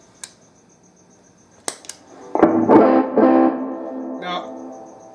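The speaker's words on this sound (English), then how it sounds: "So I'll turn an overdrive pedal on." Blues electric guitar played through an overdrive pedal with reverb: a few sparse plucks, then a louder run of sustained, gritty chords that ring out and fade, with a faint voice near the start.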